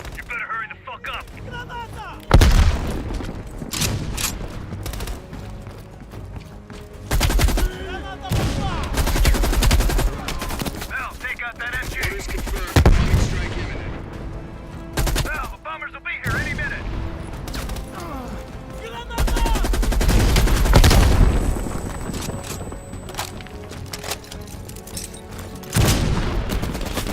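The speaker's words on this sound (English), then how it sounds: "Heavy MG on the ridge." Heavy machine gun fire in Call of Duty Black Ops Cold War rattles in loud repeated bursts, mixed with booming impacts and battlefield noise, while voices talk intermittently throughout.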